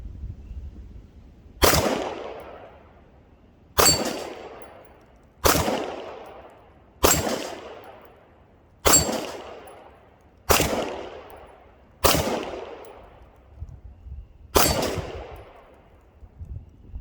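A Tisas Zigana PX9 Gen 2 pistol fires reloaded lipstick-bullet rounds, eight sharp, loud shots at a slow, steady pace, each followed by a ringing decay.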